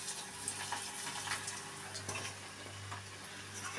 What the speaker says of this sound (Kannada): ಇಟ್ಕೊಂಡು ಕರಿಬೇಕು ಬಜ್ಜಿ ಥರ